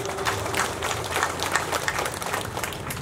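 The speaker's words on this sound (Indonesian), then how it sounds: "Tepuk tangan untuk beliau berdua." An audience at a political declaration event for regency head candidates claps steadily, a moderate spread of applause heard from the room without speech over it.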